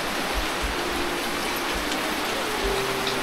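Steady rain falls beside a tilting bamboo-walled house, a dense even hiss of drops on surfaces close by, with low thumps underneath and no talk.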